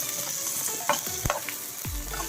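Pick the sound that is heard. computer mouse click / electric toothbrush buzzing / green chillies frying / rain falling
green chillies frying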